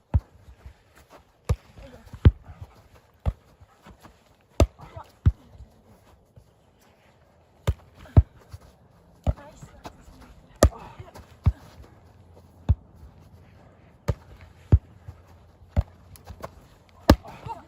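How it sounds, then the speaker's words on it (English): A ball struck repeatedly by a dog playing volleyball gives sharp, irregular thumps and bounces, loud and close, spaced a second or so apart, with quiet gaps between. "Here's a dog that knows how to play volleyball."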